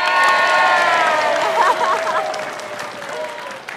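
Students applauding at a thesis defense, dense clapping with some cheering that is loud at first and then gradually fades.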